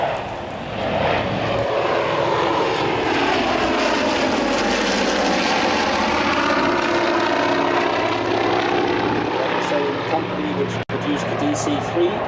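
A Douglas DC-6 with Pratt & Whitney R2800 piston engines flies past at an airshow at Biggin Hill, a loud, steady propeller drone whose pitch sweeps as it passes, heard under continuous commentary.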